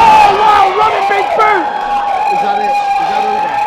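A wrestling crowd cheers for Karl Parker in a loud, sustained roar, with a commentator's voice speaking clearly over the top throughout.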